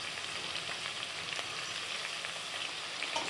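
Broad beans fry in hot oil in a pot, giving a steady, close sizzle with faint crackles that runs evenly throughout, with no voices.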